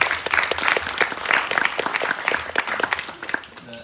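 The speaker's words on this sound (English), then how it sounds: "Let's give a round of applause for folks who shared" A round of applause at a church gathering for people who shared experiences, a small group clapping with distinct, close claps that taper off toward the end.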